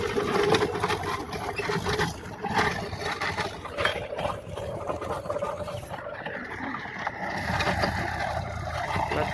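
A tractor-driven rotavator churns through a grassy village field, a continuous rough, clattering mechanical roar with steady engine drone, close and loud throughout.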